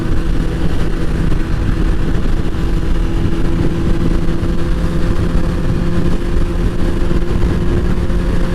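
Motorcycle cruising on highway 95 South, its engine droning steadily and loudly with heavy wind rush throughout, no pauses or voices.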